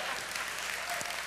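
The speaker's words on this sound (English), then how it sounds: "Let's give a round of applause." A church congregation applauds in a short burst of dense, even clapping heard at a distance, soft and diffuse throughout.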